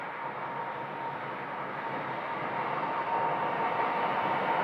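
An Embraer 175 arriving at Phoenix Sky Harbor near gate B1 gives a steady, broad jet roar that holds even and close throughout, swelling slightly toward the end.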